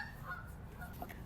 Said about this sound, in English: Oh, geese going by.